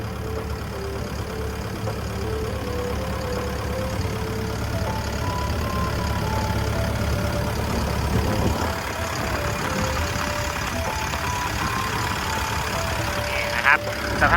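The diesel engine of a 12-ton Hitachi ZX135US-3 excavator idles steadily at close range, a low even rumble with a faint mechanical hum, continuing without talk until a brief clatter near the end.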